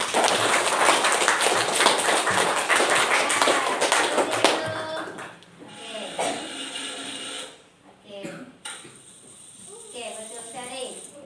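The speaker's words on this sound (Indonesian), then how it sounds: "tepuk tangan untuk 3 orang teman kita." A classroom bursts into applause for three students, a dense burst of clapping for about five seconds that then fades out, followed by a few quieter sounds and a voice talking.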